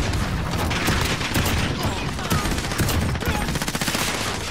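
Sustained gunfire in the first-person shooter Call of Duty Modern Warfare, with rapid automatic bursts and overlapping shots forming a loud, dense barrage with barely a gap throughout.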